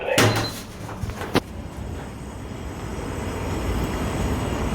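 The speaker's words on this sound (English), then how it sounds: "Doors opening." Train doors opening at a railway platform on a class 377 train: a sharp mechanical clunk and a couple of knocks, followed by steady station rumble.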